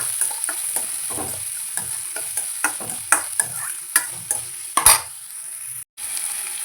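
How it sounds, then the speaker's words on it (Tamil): Garlic, curry leaves and onion sauté in a pan for fish kuzhambu, a steady sizzle under repeated close scraping and stirring strokes of a spoon against the pan. "பூண்டு, கறிவேப்பிலை, வெங்காயம் போட்டு கொஞ்சம் வதக்கணும்"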